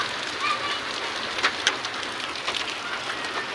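Heavy evening rain falls steadily on surfaces in a village, a dense continuous hiss with a few louder drops and splashes, close and unbroken.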